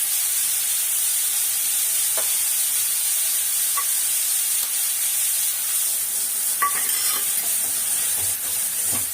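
Carrots sautéing in a pan with coconut, cumin, garlic and green chili, giving a steady soft sizzle and hiss with occasional stirring scrapes, close and continuous with no talking.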